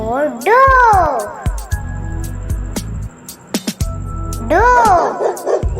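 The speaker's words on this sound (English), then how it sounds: "D for dog." A cartoon-style dog barks and yips loudly in two bursts, with lower growly tones between them, in a children's alphabet song.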